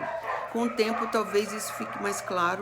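Dogs barking and yipping in short bursts around a house, several tonal yelps and whimpers close by, mixed in under a person talking steadily over them.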